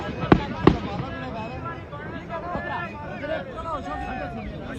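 Two sharp gunshot cracks ring out early during a violent clash at a burial in Chadhoi, followed by shouting and the hubbub of an agitated crowd.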